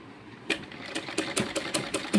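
A sewing machine stitches a neckline onto cloth. After a brief quiet start it runs in quick, close rhythmic bursts of clattering needle strokes.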